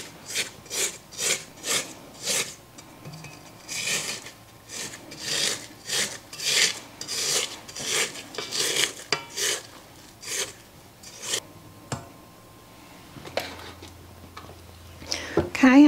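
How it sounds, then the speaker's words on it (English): A spatula scrapes down the sides of a bowl of cookie dough for a copycat Crumbl key lime pie cookie, making a steady series of close, rhythmic raspy strokes that trail off near the end into quieter handling. "Okay, I'm going to scrape down the sides."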